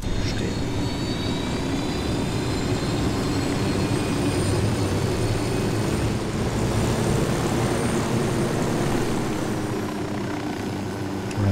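Helicopter in the video game Ghost Recon Wildlands, a loud continuous rotor and engine drone held steady throughout with no talk over it.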